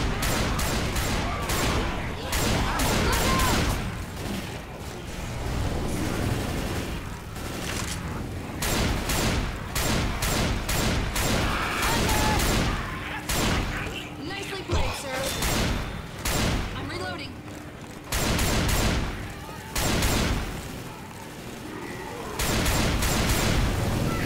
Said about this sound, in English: I'm using a shotgun.